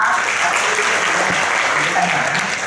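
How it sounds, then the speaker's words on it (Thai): A seated audience at a Thai public-health institute event claps loudly and continuously, a close, dense wash of applause that holds steady from start to finish. "ไปขอเสียงปรบมือหน่อยนะครับ"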